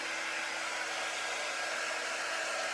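A hair dryer blows steadily at close range while drying garments, a loud, even airy roar with no change or talking throughout.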